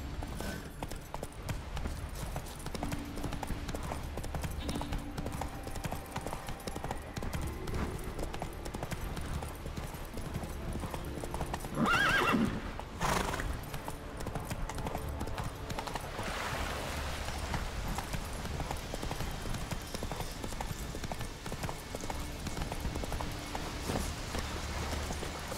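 A horse's hooves clip-clop steadily in The Witcher 3: Wild Hunt, a continuous rhythmic trotting that holds throughout with a louder thump near the middle and a quiet game ambience underneath.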